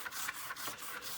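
Steady dry rasping of sandpaper worked back and forth over a plastic part from a Testors 1/48 scale SR-71 model kit, close and continuous in short repeated strokes, with no talk.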